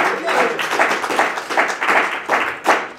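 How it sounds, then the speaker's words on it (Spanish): Steady clapping from a church congregation, a dense patter of hand claps rising and falling in bursts over a few seconds. "Denle un aplauso a la gloria del Señor."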